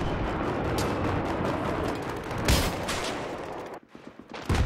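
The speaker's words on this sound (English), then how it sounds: "I'm shooting him dead in the face with like 20-something odd bullets" Rapid automatic gunfire rattles in Battlefield 3 gameplay, dense bursts of shots running almost continuously, with a louder blast midway before a brief drop and a few final shots.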